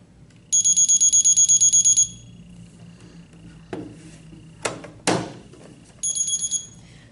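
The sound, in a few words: Med-E-Lert pill dispenser test alarm tone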